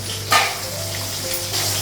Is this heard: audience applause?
no